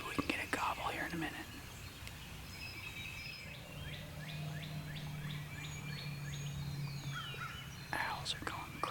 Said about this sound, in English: Owls are going crazy.